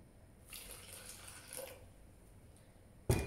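Water poured into a cup for Doluga instant coffee, a faint soft trickle lasting a couple of seconds, followed by a sharp clink at the end.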